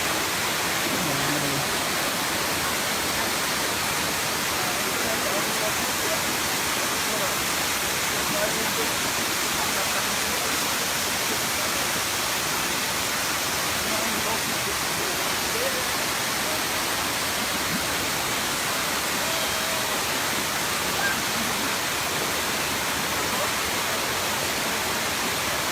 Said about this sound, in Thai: วิวนี่คือน้ำตกใช่ไหมครับวิวน้ำตกสวยมากนะฮะ